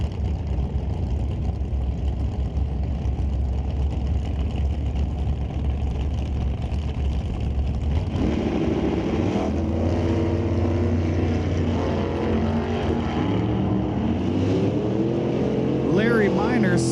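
A '69 Camaro and another first-generation F-body sit rumbling in the lanes at an NHRA Canadian SPORTSnationals drag strip, then launch partway through as the engine notes climb and rise steadily in pitch.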